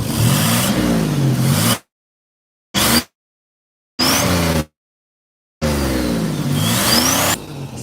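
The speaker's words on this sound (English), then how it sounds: "Rev it up a bit." A 1987 Buick Regal Turbo T Limited engine revs in several separate loud, close bursts, each a rising and falling throttle blip, with abrupt silent gaps between them.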